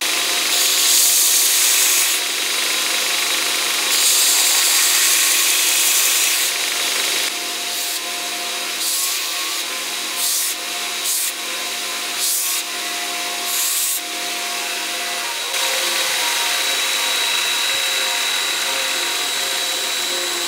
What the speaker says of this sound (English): I'm gonna put it on my belt grinder now, and I'm just gonna bring that that down slightly, and I'm gonna reduce the thickness of this